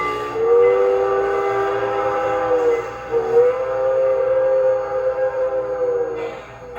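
A C&S Mogul model train locomotive with a Zimo decoder sounds a short, steady whistle lasting several seconds, clear and close, with a slight dip partway before it resumes.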